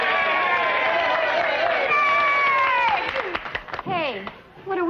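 Crowd of men cheering and hollering at a frontier boxing match in Oklahoma Territory, a loud, sustained roar of overlapping voices with whoops and shouts that breaks up and thins out toward the end.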